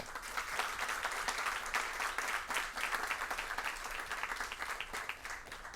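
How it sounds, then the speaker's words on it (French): Steady, sustained applause from a crowd cheering a high school team at a quiz competition in Haiti, dense clapping continuing evenly throughout at moderate loudness. "Je vous demande de les applaudir"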